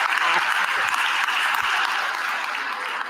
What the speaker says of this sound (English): What are they clapping to?